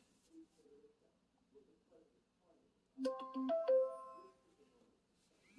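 A phone ringtone of an incoming call plays a short melodic electronic pattern partway through, quiet at first and then clearer for a couple of seconds.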